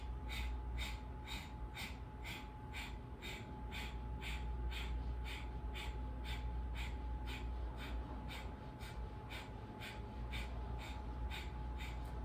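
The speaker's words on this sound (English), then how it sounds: "And short spurted exhales through the nose." Short, forceful nasal exhales in yoga breathing practice, repeated in a steady, quick rhythm of about two puffs per second throughout, close and alone over a constant low hum.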